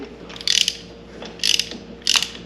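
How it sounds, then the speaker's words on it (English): A Honda TRX 200X ATV engine being turned over by hand, giving three separated compression strokes, each a short rasping mechanical whoosh up close, with quiet pauses between them. "You know what that is? That's compression."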